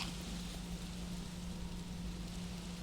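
Rain falls steadily in a video game, a constant, even hiss of downpour with a faint low hum underneath, no talking.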